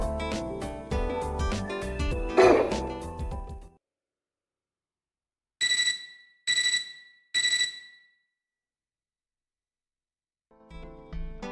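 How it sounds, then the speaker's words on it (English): In the Fate/Extra CCC video game, three short bright bursts of alarm-clock-like ringing come in quick succession after a stretch of music, then silence until the music returns. "I woke up with the ringing sound, like an alarm clock."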